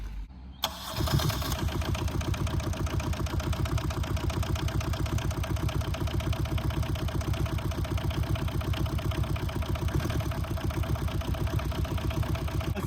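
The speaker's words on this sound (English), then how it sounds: "So let's start the engine." Aixam 500-4 minivan engine cranks and catches after a brief pause, then settles into a steady, loud, rhythmic idle that runs close by with no talking over it.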